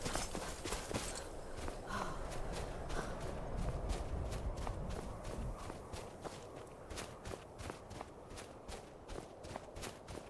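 Horse hooves clip-clop in Skyrim, a steady rhythmic series of close, crisp hoofbeats at a trotting pace over a low rumbling background, with no speech.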